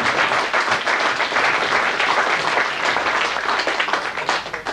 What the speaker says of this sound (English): Even Andy Appleton's giving him a nice bit of applause there.